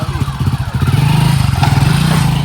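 A motorcycle engine runs steadily close by, its low throbbing pulse loud and continuous throughout with a slight rev toward the middle.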